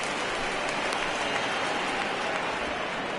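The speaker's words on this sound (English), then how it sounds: "we've mentioned the conditions aren't ideal with the rain coming down" Steady rain pours down at a baseball stadium during a Triple-A championship game, a dense, even hiss of falling water filling the scene throughout with no pauses.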